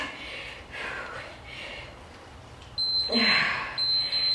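Two electronic beeps from a workout interval timer sound in the second half, a longer tone then a shorter one, over faint room noise.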